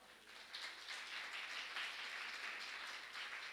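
A church congregation at a New Year service breaks into steady applause, a dense, even wash of many hands clapping that holds at moderate loudness throughout, with no talk over it.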